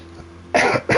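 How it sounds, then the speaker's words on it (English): A person coughs in two loud, harsh bursts close to the microphone, following a quiet stretch, the second burst starting just as the clip ends. "Excuse me, I'm going to have a coughing fit now."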